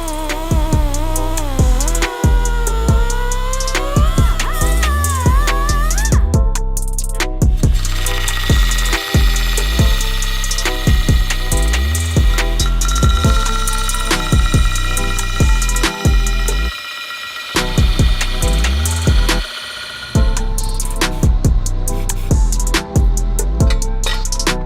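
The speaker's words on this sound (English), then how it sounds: "There's some tabs that are in the way. I guess they don't have those tabs in the new models, so we just grinded them off" Power grinder cutting metal tabs off an intake manifold for a newer engine, a loud steady whine with repeated bursts and short pauses through most of the stretch.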